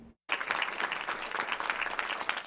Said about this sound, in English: Amber Vinson received a round of applause as she left Emory University Hospital in Atlanta today